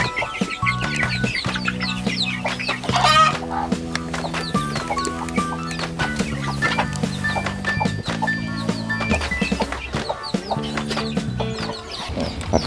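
Chickens cluck over and over in a newly built DIY brooder pen, loud and close, against a steady tonal background.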